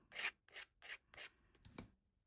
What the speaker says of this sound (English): I'm going to scrape back in a little bit with my palette knife